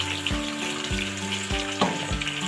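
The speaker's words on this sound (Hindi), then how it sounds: "ऐसे ही इसको मैंने फ्राई कर लेना।" Chicken for a deghi qorma fries in a pot with a loud, continuous sizzle, punctuated by regular low thuds of stirring roughly every half second.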